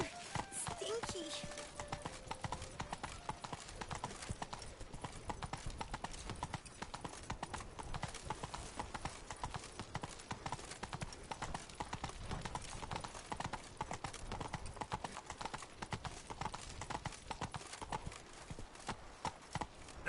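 Hooves of the horse Roach clop in a fast, steady galloping rhythm for about twenty seconds in The Witcher video game, continuous and fairly close.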